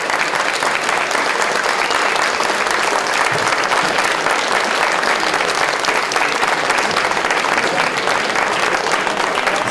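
An audience at an event in Couëron applauds the organiser, a dense, steady wash of many hands clapping that fills the whole stretch at full, even loudness with a faint crowd murmur underneath.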